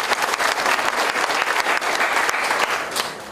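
Guests at the opening ceremony of a livestock cooperative's new head office building in Icheon applaud, loud dense clapping from a sizable crowd, steady and continuous before easing off slightly at the end.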